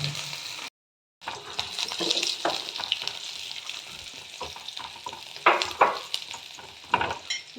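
Finely chopped onion frying with cumin seeds in hot oil, a constant close sizzle broken by a brief silent gap and followed by irregular scraping and stirring clatter from the spatula.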